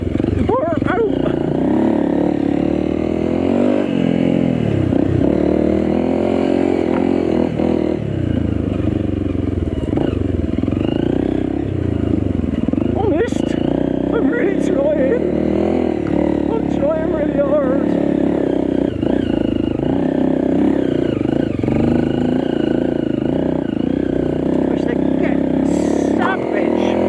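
A Honda CRF250M motorcycle engine with a new ECU revs loudly and continuously, rising and falling in pitch, close by, with talking over it throughout.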